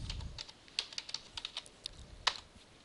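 Someone types on a computer keyboard in a quiet room, giving a short run of soft, uneven key clicks with one sharper tap near the end.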